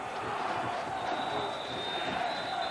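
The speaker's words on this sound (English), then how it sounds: "now they've got the Stallions version of the famous Baltimore cheer here at Memorial Stadium" A stadium crowd at Memorial Stadium in Baltimore during a 1995 CFL Stallions playoff game, a steady distant roar of massed voices chanting with no clear individual words.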